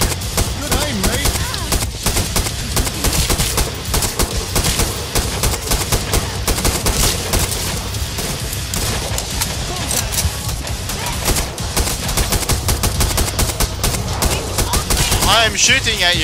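Dense, continuous gunfire fills a Killing Floor match, rapid automatic bursts and shots overlapping almost without a break for the whole stretch, loud and close, with players' voices talking underneath.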